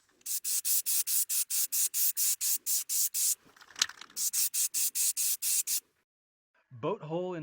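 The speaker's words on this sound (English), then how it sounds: "Boat hull interior sanding and primer is done." Interior of a vintage 14 ft Arkansas Traveler aluminum boat hull being sanded in quick rhythmic back-and-forth strokes, close and even, with a brief pause midway, then a short squeaky sound near the end.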